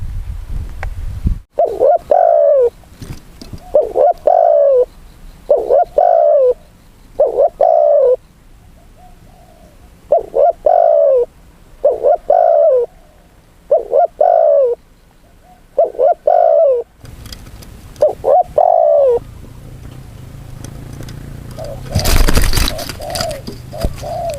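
Pigeons or doves coo repeatedly at a bird-trapping spot, about ten bursts of calls in a steady rhythm, loud and close, followed by a rustling, clattering noise near the end.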